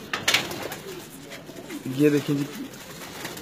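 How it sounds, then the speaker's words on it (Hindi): Farsi fancy pigeons kept by a fancier give a brief soft cooing call midway, with someone talking nearby before and around it over quiet outdoor background. "ये कबूतर हैं"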